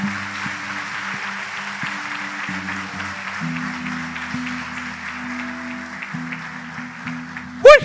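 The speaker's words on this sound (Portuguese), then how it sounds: "Aplauda Ele mais uma vez." A church congregation applauds in a steady, sustained wash of clapping, with a sustained musical drone running beneath it and a sharp burst at the very end.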